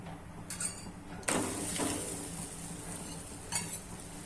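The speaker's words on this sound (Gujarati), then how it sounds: "ઉપર ઘી નાખી દેશું આ રીતના આપણે બધા પરોઠા શેકી લેશું" Pav bhaji paratha roasting in ghee on a hot pan, a steady low sizzle with a few soft scrapes and clinks of a spatula against the pan, close and without talk.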